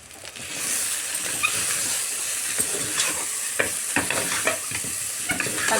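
Mutton paya, Telangana style, is stirred in a frying pan over a constant loud sizzle, with irregular scraping clinks of the spoon against the pan.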